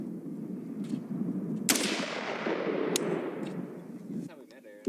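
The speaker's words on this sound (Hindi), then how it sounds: "As you can see, it's firing once." A single shot from a semi-automatic firearm sounds as one sharp report with a long decaying echo, followed by a faint mechanical click.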